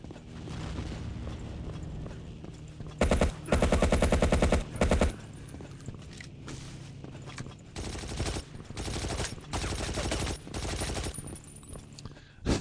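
Bursts of assault gun fire in the Battlefield 1942 video game on the Iwo Jima map, rapid rattling volleys in several loud clusters over a constant background of battle noise.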